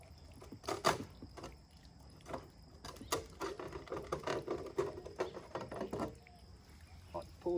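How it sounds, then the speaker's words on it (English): Metal wing nut being turned and loosened to release the blue mat on a Gold Rat Outback Pioneer Series highbanker gold sluice, a run of close, irregular clicks and ratcheting scrapes with faint background noise and no talk. "So that's a matter of undoing this wing nut here."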